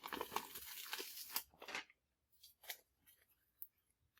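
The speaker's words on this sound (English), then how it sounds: "I'm just going to peel back the HeatnBond." Backing paper is peeled off HeatnBond iron-on adhesive close up, a quiet crinkling, tearing rustle for under two seconds, then faint scattered paper handling sounds.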